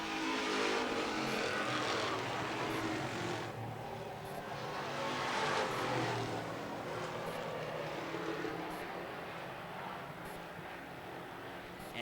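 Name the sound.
street stock race cars racing around the track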